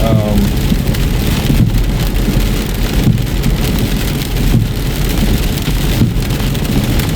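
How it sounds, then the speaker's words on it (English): Heavy rain pours onto a car's windshield and roof during a thunderstorm, a dense, loud, constant hiss with low rumbling thunder underneath and no voices. "you guys are going to watch the storm as I talk"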